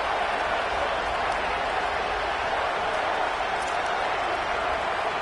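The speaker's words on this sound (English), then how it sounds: "Now this home crowd making life difficult." Continuous roaring home crowd noise fills a stadium in an NCAA college football video game, a dense, steady wash of cheering that stays loud and unbroken throughout.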